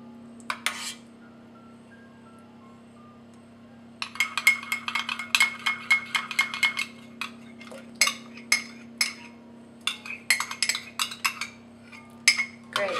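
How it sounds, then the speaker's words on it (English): A spoon stirs a coconut yoghurt mixture in a bowl, making bright clinks against the sides in quick rhythmic runs after a short opening tap, over a constant low hum. "Give it a good stir."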